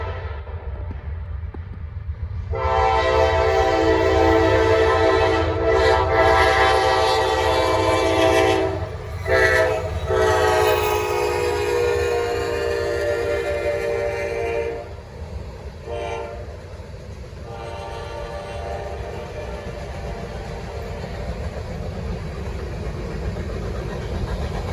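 A short Norfolk Southern or CSX freight train of about 15 cars rolls past, sounding a loud, sustained multi-tone horn in long blasts over the rumble of the wheels, which fades as the train moves away.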